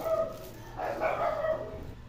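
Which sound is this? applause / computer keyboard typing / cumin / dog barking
dog barking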